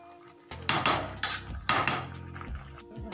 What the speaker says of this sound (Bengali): যে ভাতটা আমার হয়ে গেছে, এবার আমি কষিয়ে নেব একদম ঠিকঠাক।